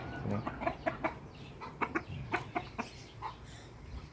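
Several chickens cluck in short, irregular bursts at close to moderate range, some calls sharper than others, with no talk over them.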